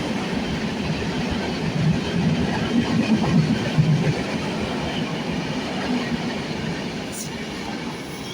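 A train rumbles steadily through Irinjalakuda railway station, a continuous close rolling roar with faint wheel clatter and a brief high squeal near the end.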